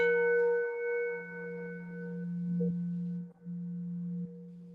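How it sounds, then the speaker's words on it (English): Two steady electronic tones alternate between a high and a low pitch, clean and pure, repeating through the clip at moderate level with no voices. "you can hear the two tones, the high and the note, the high and the low"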